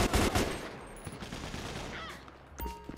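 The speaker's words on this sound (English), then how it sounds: "They shooting at the other gang." Gang gunfire in the GTA 5 video game with the LSPDFR police mod: quick bursts of shots crackle in the distance at the start, then scattered pops fade under ambient noise, with a sharper blast near the end.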